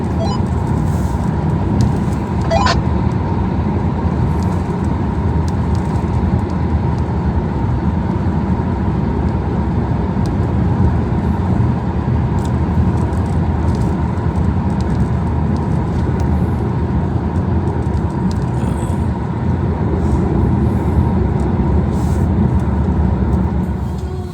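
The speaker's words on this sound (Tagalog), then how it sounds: "More traffic, standby." Road traffic near Olden in Norway, a continuous loud rumble of passing vehicles without clear individual passes.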